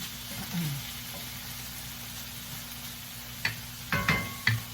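Zucchini noodles cook in a pan with a soft, continuous sizzle, broken near the end by a few sharp clicks and scrapes from a utensil against the pan.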